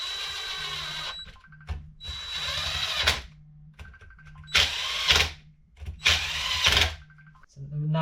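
Power tool tightening a part during a rebuild of a 2000 Yamaha YZ125 two-stroke engine, heard as repeated high-pitched whirring bursts of a drill or impact driver with short pauses between them, close and fairly loud over a low background hum.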